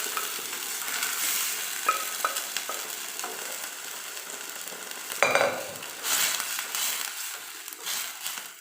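Beetroot kurma sizzles as it is sautéed in a pan, with close frying hiss, intermittent scraping stirs and a sharper clatter partway through.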